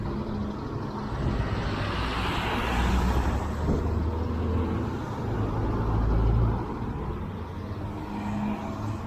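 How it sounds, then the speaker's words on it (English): Steady car traffic at a busy San Francisco intersection near a freeway exit, a continuous low roadway rumble with vehicles passing close by and swelling louder around the middle, no talking. "All these cars are getting off the freeway and exiting into the last exit in San Francisco"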